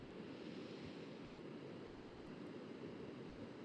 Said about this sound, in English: Just look at the waves, go way out to the horizon.